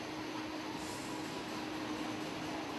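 The JR Hōhi Line tourist train Aso 1962 pulls into Aso Station, a quiet, even rumble of rolling rail noise that holds steady and slightly distant throughout.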